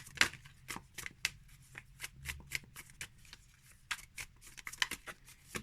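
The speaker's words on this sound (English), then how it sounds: "to ruffle shuffle is not too bad" Tarot cards riffle-shuffled in repeated short bursts, each a crisp fluttering rattle followed by a soft tap, close and fairly quiet with brief pauses between.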